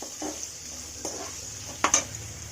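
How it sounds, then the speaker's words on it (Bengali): Onion sizzling in hot oil in a pan after potatoes, stirred with a utensil that scrapes and clinks a few times against the metal, with no voices. "পেঁয়াজটা একটু ভাজা ভাজা হয়ে যাবে"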